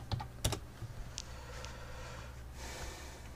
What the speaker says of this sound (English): Just type in Steven Anderson.